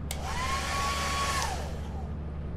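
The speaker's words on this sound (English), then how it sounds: "He turned the hand dryer on. Or the hair dryer on." A hair dryer switches on in the Lethal Company video game and gives a steady whirring hiss with a rising and then falling tone. It is fairly quiet under a constant background drone, and nobody speaks.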